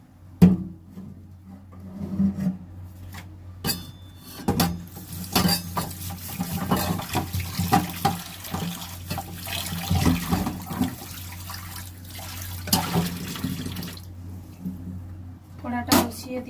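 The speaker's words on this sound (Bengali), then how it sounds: "আর কড়ার গরম জলটা এতে ঢেলে দেব ডালের মধ্যে।" Hot water from a kadai pours and splashes into a pot of khesari dal, a loose wet sloshing under scattered metallic pot clinks and knocks, close and moderately loud.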